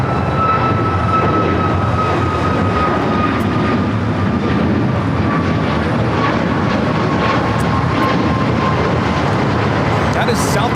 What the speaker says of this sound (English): That is Southwest Airlines 3411 taking off to Phoenix, Arizona on the MAX 8.